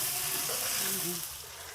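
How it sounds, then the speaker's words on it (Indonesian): Shrimp going into a hot pan with partly cooked ingredients, a steady loud sizzle with brief faint tonal sounds under it. "Nih, sembang, udah agak masak nih, baru saya masukkan udangnya."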